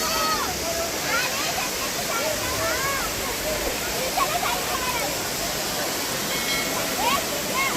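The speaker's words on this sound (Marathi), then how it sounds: "तिथून खाली आला तर बघा हे असं वाहतच राहतं पाणी" Water flowing steadily down a series of small waterfalls at Jummapatti near Matheran, a loud continuous rushing roar with voices and chatter faintly audible beneath it.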